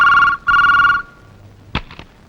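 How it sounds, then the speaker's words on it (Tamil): A telephone bell rings in two loud, close bursts in a Tamil film scene, then a few short knocking clicks follow in a quiet room. "பெல்."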